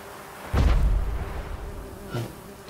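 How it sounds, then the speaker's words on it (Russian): Bees buzz in the video game The Witcher 3, a loud, close drone swelling up for about half a second and then tailing off, with a fainter second buzz near the end. "Пчелы."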